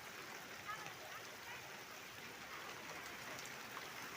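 Steady rain falling outdoors during a Karachi storm with snow also coming down, a faint continuous patter with no distinct drops standing out, heard alone at low level.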